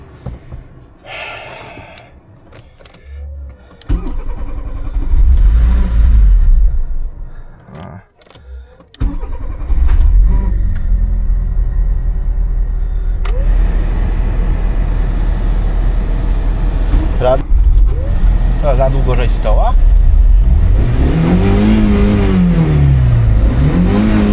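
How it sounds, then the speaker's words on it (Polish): A cold Volkswagen Polo engine cranks and catches, then is revved hard in repeated rising and falling surges, loud and close, with a brief drop between starts and sustained high revs later on. "profesjonalnie sprawdzanie silnika metodą piłowania na zimny"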